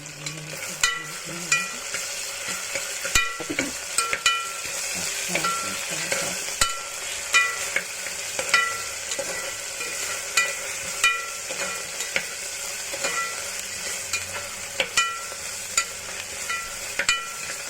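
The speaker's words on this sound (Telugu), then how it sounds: "తర్వాత జింజర్ గార్లిక్ పేస్ట్ వేసి కలుపుకొని" Ginger garlic paste fries in a pan with a steady, bright sizzle, while a spoon scrapes and taps against the pan in regular stirring strokes, close and continuous.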